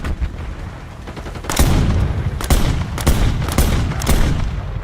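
Rapid hand cannon gunfire in a first-person shooter video game, a series of loud, sharp shots in quick succession over a steady game soundscape.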